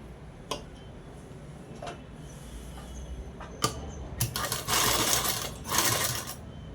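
A sewing machine stitching a dress runs in short bursts, brief rattling starts giving way to a longer, louder continuous whir of stitching near the end.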